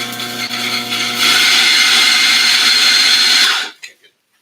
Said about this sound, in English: Now we're going to grind just a little bit through.